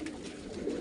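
Pigeons coo in soft, low throaty notes from a nearby flock, fairly close and steady over a quiet background.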